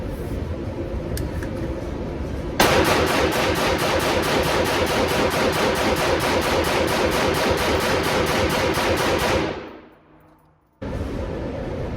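A rapid, steady string of suppressed rifle shots from a 12.5-inch Hodge-barrelled upper with an H2 buffer and Surefire RC2 suppressor, firing a mixed bag of ammo for about seven seconds, then a short pause and resumed noise.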